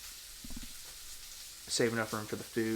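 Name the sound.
steak frying and sizzling in a pan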